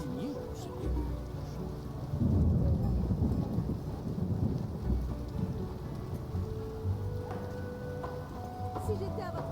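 Thunderstorm and rain in the video game The Witcher: steady hissing rain throughout, with a deep rolling rumble of thunder swelling early on and slowly fading beneath the downpour.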